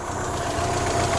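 A Mazda Miata engine idles steadily up close, a low even rumble with a slight uneven pulse and no voices.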